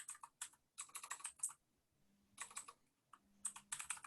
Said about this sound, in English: I'm typing a note real quick here.